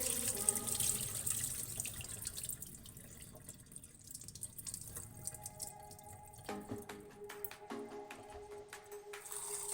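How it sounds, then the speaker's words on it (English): Rice is rinsed by hand: running water and soft swishing and sloshing in a bowl, steady and close, with no talking. "So now you're gonna rinse the rice. Gently scrub the rice."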